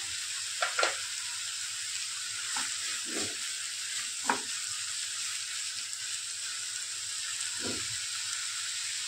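Masala with tomato puree for a pomfret fish curry sautéing in a pan makes a steady low sizzle, punctuated by a handful of spatula taps and scrapes, close and moderately quiet, no talking.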